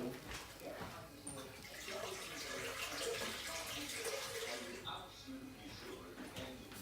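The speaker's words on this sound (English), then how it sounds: "You add some water, which I'm going to do." Water pours steadily into a pot for peanut soup, a continuous gushing splash running the whole time beneath a person talking.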